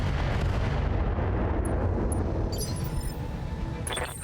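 Mech guns in BattleTech firing a heavy, continuous barrage of booming artillery-like shots, loud and rumbling with no pause.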